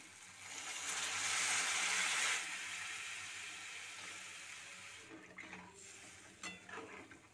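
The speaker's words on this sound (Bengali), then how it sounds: "এবারের মধ্যে পরিমাণ মতো জল অ্যাড করে দিচ্ছি।" Water poured into a pan of cooked spice mixture for a potato and split pea fritter curry, a broad rushing splash that swells over the first two seconds, fades out, and gives way to a few light clatters.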